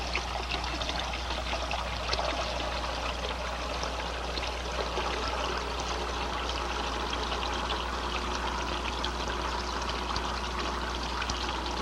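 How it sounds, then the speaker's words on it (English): Water bleeding out of a pipe manifold in a fluid-flow demonstration gives a steady, continuous pouring and trickling rush that holds evenly for about twelve seconds, with no voices. "I'll reduce the volume flow at successive sections by bleeding water from the manifold."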